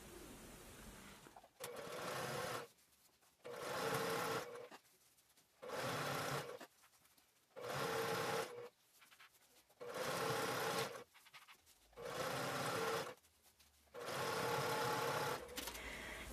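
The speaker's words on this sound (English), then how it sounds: "take this over to your sewing machine and top stitch along the seam that we just made with 1/8 inch" A sewing machine top stitches along a fabric seam at 1/8 inch allowance, running in eight loud, steady bursts of a few seconds each, with short pauses between runs and no talking.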